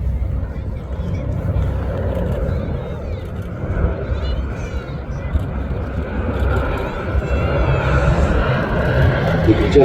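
B-17 Flying Fortress Sally B droning past at the Midlands Air Festival, a deep, continuous multi-engine rumble that swells slightly toward the end, loud and steady outdoors.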